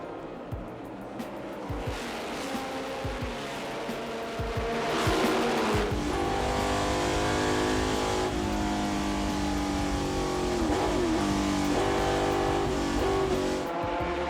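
Race cars from the 1966-1971 era thunder past on a rolling start at the Le Mans Classic, a loud continuous roar of several engines. Revving rises and falls and tires squeal now and then as the pack passes close.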